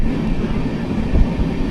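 A passenger train travelling between Thrissur and Delhi rolls along with a close, steady low rumble and a soft clicking of wheels over the rails.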